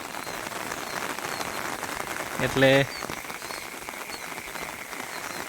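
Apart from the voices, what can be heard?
rain falling on fields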